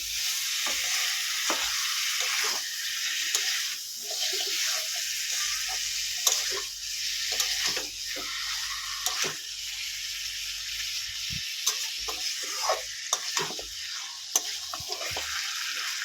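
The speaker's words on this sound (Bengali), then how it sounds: "মাংসটা আমি পাঁচ মিনিটের মতো ভালো করে কষিয়ে নিয়েছি" Beef sautés in a dry pan with no added water, a steady close sizzle interrupted by repeated scraping and stirring strokes of a spatula at an irregular rhythm.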